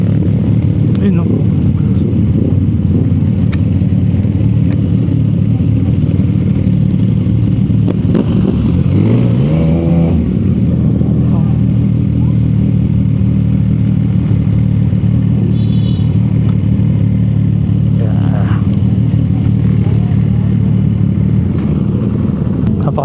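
A 2025 CFMOTO 675NK naked motorcycle runs steadily while being ridden in the rain, its engine drone loud and continuous with a brief rise in revs midway, mixed with wind and road noise.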